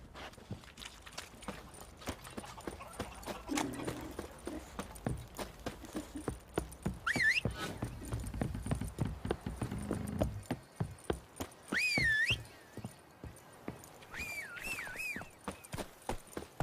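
Geralt's horse Roach in The Witcher 3, hooves clopping in a fast, steady rhythm close by, with a few short whinnies and snorts among the hoofbeats and some quieter pauses.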